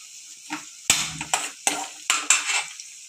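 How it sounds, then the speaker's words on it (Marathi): Ginger and green chili sautéed in a pan for chicken pasta, heard as five or six sharp, close spatula scrapes and clinks against the metal, spaced roughly half a second apart, with a faint sizzle between them. "नंतर आलं टाकू आणि मिरची, ती पण 1 मिनटं परतू।"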